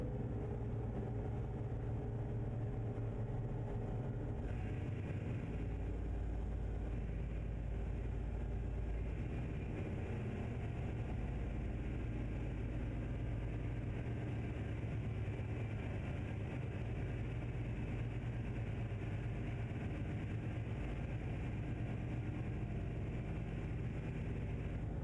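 Truck engine idling in a truck driving game, a steady low rumble that drones on for the whole stretch without a break, loud and close, with no voices over it.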